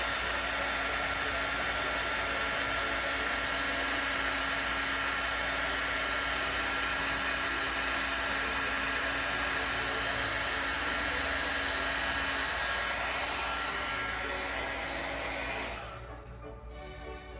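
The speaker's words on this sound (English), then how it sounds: "Now I'm going to take my embossing gun, my heat gun" An embossing heat gun blows steadily on an acrylic paint-pour Christmas card, a loud continuous whirring hiss with a faint tone that runs for about fifteen seconds before cutting off abruptly near the end.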